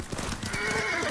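A horse in Ghost of Tsushima gives a short whinny with hoof clip-clops, brief and moderately loud over game ambience.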